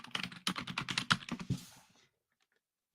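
Rapid, close-up clatter of keys on a computer keyboard during an online hangout, a dense burst of keystrokes lasting about two seconds before falling silent.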